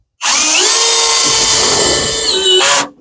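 A power drill drives a self-tapping screw into a security door for French doors, a loud close whine that rises in pitch, strains steadily, then cuts off abruptly after nearly three seconds.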